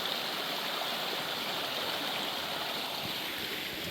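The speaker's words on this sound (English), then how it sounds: "Trout Creek sure is pretty." Trout Creek flowing steadily, a constant broadband rush of running water that stays even and unbroken throughout, heard alone without voices.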